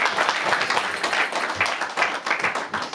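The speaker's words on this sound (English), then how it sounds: "Let's give them a round of applause." Audience at a Sunday feast program at a Hare Krishna temple breaks into dense, sustained applause, many hands clapping together at close range, with no talking over it.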